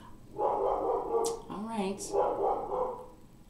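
A pet dog barks a few times indoors while someone talks over it, the barks short and moderately loud against her voice.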